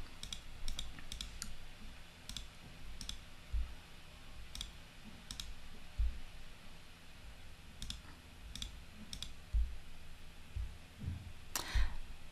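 Computer mouse clicks while working in software, sharp, quiet single and double clicks scattered irregularly over a faint room hum, with one small burst near the end.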